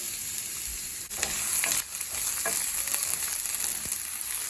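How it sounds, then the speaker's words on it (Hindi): Finely chopped onion hits a hot pan with a loud, steady, close hiss. The sizzle swells briefly as the onion lands, then settles into continuous frying with a few faint scrapes. No one speaks. "अब हम इसमें प्याज डालेंगे।"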